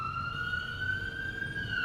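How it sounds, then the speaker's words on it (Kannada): An emergency siren, a steady sustained electronic tone holding level over low traffic rumble, fairly close and continuous, with no talk over it. "ಎಡ್ಡೆ ಟೈಮ್ ಆಂಬುಲೆನ್ಸ್ ಬರ್ತಂಡು"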